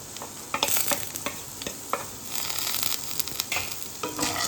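Cumin, cinnamon, clove, cardamom and curry leaves fry in hot oil for guttivankaya fry, giving a close, continuous sizzle. Sharp clicks and scrapes from stirring break through it now and then.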